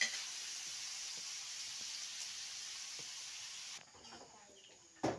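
Meat frying in a pan, a steady loud hiss of sizzling that drops away abruptly near the end before a brief burst returns.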